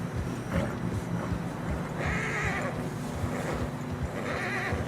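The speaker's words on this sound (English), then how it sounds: "Horses are getting tired." Horses trudge through fresh snow in the Red Dead Redemption 2 game world, with a whinny, snorts and muffled steps over a steady wind-like background, and no speech heard.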